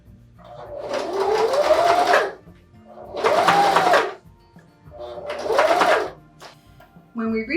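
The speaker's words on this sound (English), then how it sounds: "We'll keep sewing." Sewing machine stitching a DIY rope bag, three whirring runs of a few seconds each separated by brief pauses, close and loud with a rising-falling motor pitch.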